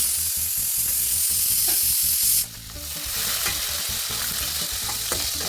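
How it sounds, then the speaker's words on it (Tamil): Shallots fry in sesame oil with curry leaves and dried red chillies, a loud bright sizzle that suddenly dips and then resumes with stirring and light crackles, no voices. "கையளவு சின்ன வெங்காயத்தை சேர்த்திக்கோங்க."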